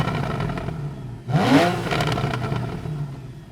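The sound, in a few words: Porsche 911 engine revving in neutral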